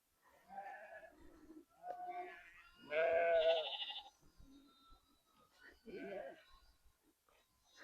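Hair sheep and lambs bleat while being moved along a hillside pasture, with a few short, intermittent calls, one louder and wavering, mixed with someone talking.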